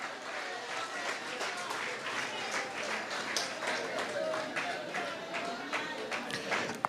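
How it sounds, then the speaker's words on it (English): Applause from party members and supporters at a PLP political gathering, steady broadband clapping across the whole stretch at moderate distance, with some crowd murmur mixed in and no clear break. "Give them a round of applause."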